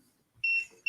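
Two short electronic beeps, each a clear steady tone, sound close and loud from an appliance signalling that a dinner is ready, with a brief pause between them.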